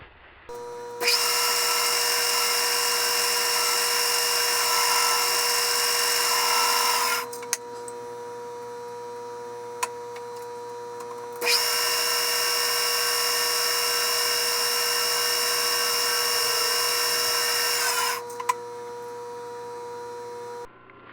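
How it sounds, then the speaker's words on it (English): An extra long center drill whines steadily into metal in two long bursts separated by a short pause, loud and close, with a constant low machine hum underneath. "I have this center drill, which is an extra long center drill"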